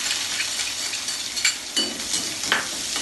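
Finely chopped small shallots sautéing in hot oil with curry leaves for a tomato sambar, a steady close sizzle with a few spoon stirs and scrapes against the pan.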